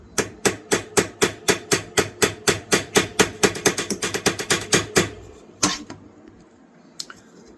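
Rapid, regular light hammer taps driving metal pins into the handle of a 1950s Imperial knife, the pace quickening near the end before trailing off into a few scattered strikes and quiet.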